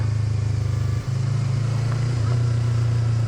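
A 2019 Yamaha R3 motorcycle engine drones steadily while riding, a loud low hum with wind noise that dips briefly as the rider shifts gear, then holds on at a fairly even pitch.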